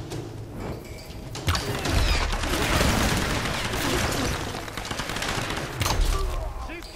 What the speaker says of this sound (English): Help! I'm under fire!